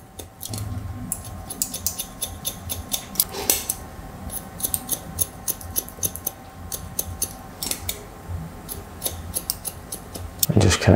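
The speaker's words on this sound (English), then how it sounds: "I'll just point cut into that as well." Scissors snip rapidly into hair during a low fade haircut, point cutting the length on top in quick bursts of crisp clicks, heard close with no talking.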